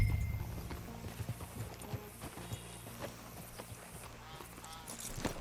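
Horse hooves clip-clop at a steady walking pace in Red Dead Redemption 2, close by, with a brief snort at the start and faint background ambience.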